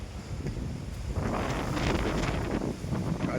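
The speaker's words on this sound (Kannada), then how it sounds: "ತುಂಬ ಗಾಳಿ ಬಿಸ್ತೈತೆ" Strong wind blows hard on a hilltop at the Kotebetta entry in Coorg, roaring against the microphone in a steady rush that swells louder midway, with no talk.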